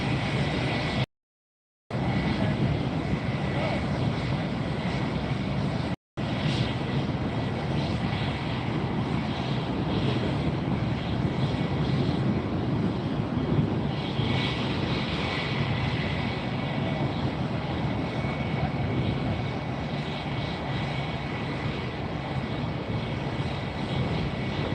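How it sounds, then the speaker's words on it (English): Steady, loud roar of an airliner's engines while preparing for takeoff at Fort Lauderdale International Airport, broadband and continuous throughout with one brief dropout, no talk. "Getting ready for takeoff here from Lauderdale International Airport."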